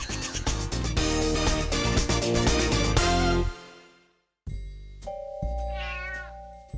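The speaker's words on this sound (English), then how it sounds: "When a cat you don't know comes calling at your door, the best thing to do is ignore it." A cat meows loudly and close in a home setting, with a drawn-out, wavering call near the end after a burst of dense music that cuts off.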